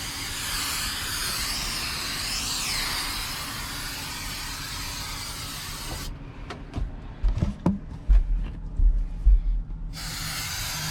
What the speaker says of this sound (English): I'm doing is just gonna spray it everywhere.